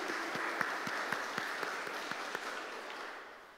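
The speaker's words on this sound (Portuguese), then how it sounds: "saudemos que com essa singela salva de palmas, mas que vai certamente de coração a coração" A church congregation at a Pentecost Sunday Mass in Lagoa gives a brief, soft round of applause. Scattered handclaps ring out over a steady wash of distant clapping that fades toward the end.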